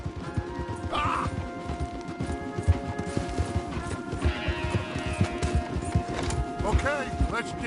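Horses galloping in Red Dead Redemption 2, rapid rhythmic hoofbeats on the ground with clattering impacts, under character voices and a brief whinny.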